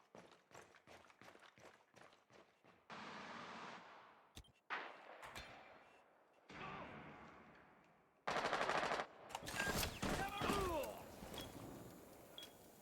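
Gunfire from the Rainbow Six video game comes in bursts: a rapid string of shots, then sustained automatic fire, sharp single cracks and a loud final volley with ringing and debris, interspersed with brief pauses and footsteps.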